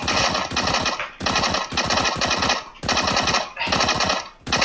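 Automatic rifle fire in the CS:GO video game, sustained bursts of rapid shots with brief gaps between them, loud and close with no voices over them.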